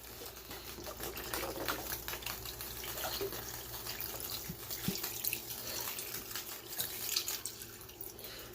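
Chicken broth and water pour steadily into a pot, a continuous splashing stream with a few small knocks, fairly close, no talking.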